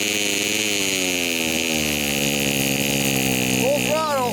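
A RedMax CHTZ2460 two-stroke hedge trimmer, not yet warm and running lean, holds a steady buzzing engine note with faint wavering, close and loud, while a voice talks over it.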